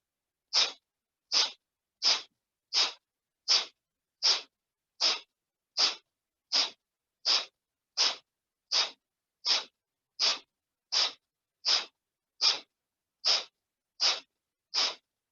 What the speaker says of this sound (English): And then begin that forceful exhale.